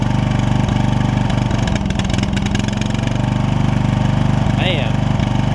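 A Toro Wheel Horse 1232XL hauler garden tractor engine idles steadily and loudly up close after a carburetor kit install, a constant low rumble, with brief faint chirps near the end.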